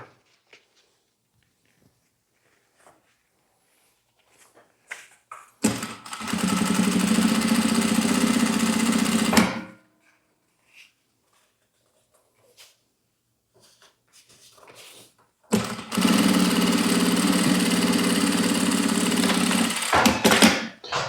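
A sewing machine topstitches a small egg-shaped fabric purse in two steady whirring runs of about four seconds each, separated by quiet handling sounds.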